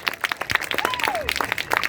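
An audience claps at an end-of-band-camp outdoor performance, with quick irregular claps scattered through the moment while people talk nearby.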